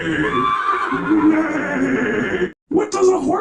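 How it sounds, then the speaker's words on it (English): A horse neighs loudly and close, a sustained shrill whinny that breaks off abruptly, followed by another short call, with a voice heard around it. "What does a horse say? Neigh!"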